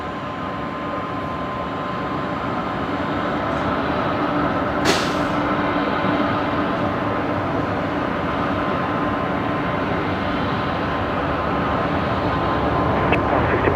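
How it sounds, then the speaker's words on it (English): An airport train rolls in at Brisbane Airport with a loud, steady mechanical roar and rumble, a sharp hiss of air brakes breaking through partway. "as the air train pulls in, making an absolute racket"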